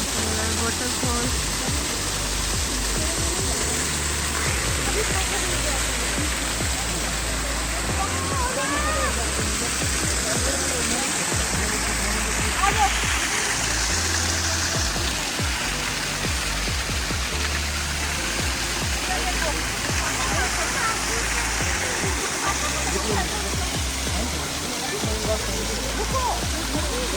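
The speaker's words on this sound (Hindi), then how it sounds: "वाटरफॉल" Waterfall at a bird park, a loud, continuous broadband roar of falling water heard up close, with people talking faintly over it.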